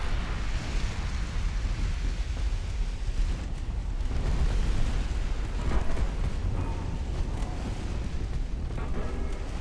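A torpedo striking a cruiser in a naval warfare game, heard as a deep, continuous rumbling blast with a broad roar and crackle that persists steadily throughout.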